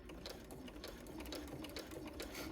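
A sewing machine stitches binding onto a quilt edge, its steady needle chatter running continuously and evenly at a slow pace, close by with no talking.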